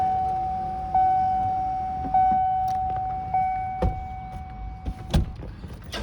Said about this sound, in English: You put the front windows down so you guys get a really good feel for it.